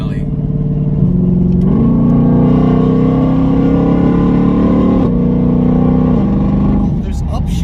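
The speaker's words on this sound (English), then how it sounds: "Oh, those upshifts." Ford Mustang performance car engine revving hard and climbing through several upshifts, with steady loud engine drone and pitch steps at each gear change, heard from inside the car under occasional talk.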